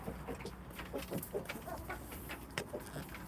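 One of three pet roosters clucks and calls in short, scattered bursts, fairly close against a steady low background hum.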